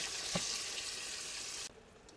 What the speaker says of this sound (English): Now that our oil is heated up, we're going to go ahead and throw in our pork.